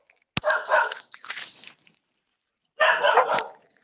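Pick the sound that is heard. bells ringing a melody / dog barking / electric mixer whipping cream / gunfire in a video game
dog barking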